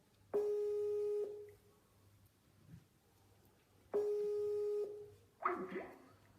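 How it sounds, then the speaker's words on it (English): A phone ringback tone sounds twice, each buzz about a second long with a pause between. A few soft noises come in between the rings. "It's ringing now. It's just not answering."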